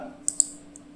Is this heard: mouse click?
yes